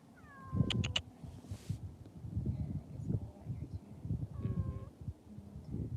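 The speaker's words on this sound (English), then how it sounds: "Come here, kitty." A cat outdoors in the desert meows twice, once near the start and again later, the cries clear and fairly close above soft rustling and low background noise.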